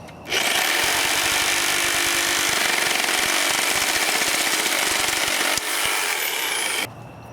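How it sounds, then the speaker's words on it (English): A Sawzall reciprocating saw cuts through plumbing pipe nearby, a loud, steady buzzing rasp that runs almost continuously for several seconds before a brief dip and then stops abruptly. "have a good sawzall here"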